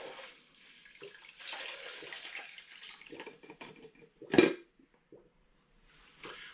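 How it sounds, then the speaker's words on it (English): Apple brandy at 50 percent strength is poured from a container into a measuring jug, giving a soft trickling splash with light handling clinks and a sharper knock near the end, indoors and without talk. "So I'm just going to pour it into this jug."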